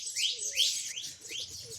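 Small birds chirp in quick repeated tweets at a morning feeding spot where pigeons gather, the calls moderately close and steady with faint lower cooing beneath.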